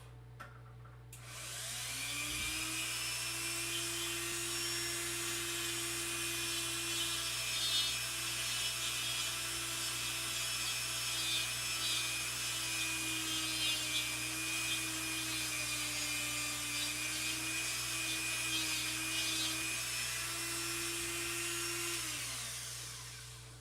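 A handheld rotary tool with an abrasive bit grinds plastic on an X-Wing scale model kit, a steady high-pitched whine that holds for about twenty seconds close by before spinning down, with no voices.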